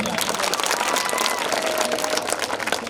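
Loud, dense clapping from a school audience applauding a young pupil at an English medium school event, sustained and close with a faint voice underneath.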